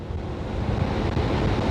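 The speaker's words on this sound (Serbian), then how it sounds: "Vetar mi bije jedino u gornjem delu kacige, odnosno glave." Loud, steady rumbling wind buffets the top of a motorcycle helmet while riding a Piaggio MP3 three-wheeled scooter at about 120 km/h, a constant roar with no speech.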